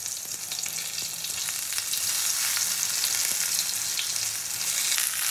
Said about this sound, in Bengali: তো বেগুনটাও আমার ভাজা হয়ে গেছে